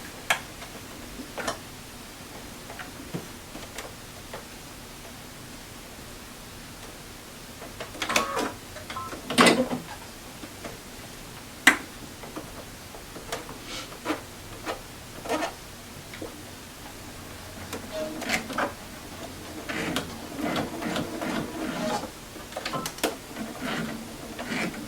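A sewing machine stitches seams along a zippered pillow cover, giving intermittent mechanical clicking and ticking with short bursts of running, nearby and fairly quiet, no talking.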